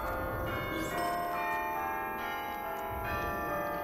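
Bell tower bells in the video game Lord of the Rings Online ring in a slow resonant peal, rich overlapping tones sustained over a busy game soundscape, moderately loud.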